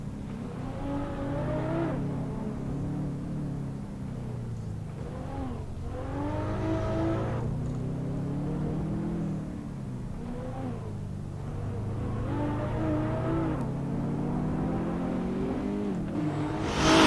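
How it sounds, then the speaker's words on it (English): A Toyota Supra engine revs hard in Assetto Corsa on the twisting Akagi mountain road, its loud tone climbing and falling repeatedly through gear changes and corners with steady exhaust drone and no talk. "Man, that Supra sounds mean."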